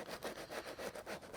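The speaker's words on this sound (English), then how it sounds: "So that is the area that we're going to sand. Let's get sanding." Hand sanding on the floor of an inflatable boat gives quick rhythmic back-and-forth rasping strokes, close and fairly quiet, with no voices.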